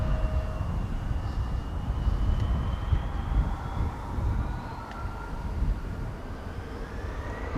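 A Transavia Boeing 737 taxis at Amsterdam Schiphol on a windy day, a steady jet engine roar and whine with slowly rising tones, fairly close and continuous, no talk.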